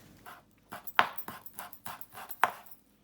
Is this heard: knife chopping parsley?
yes